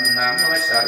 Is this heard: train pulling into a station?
no